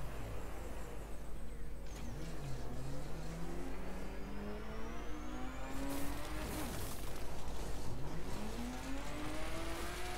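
Racing car engine in The Crew, revving and accelerating hard, with rising gear sweeps that drop at each shift and then climb again, loud and steady throughout with a brief tire squeal partway through.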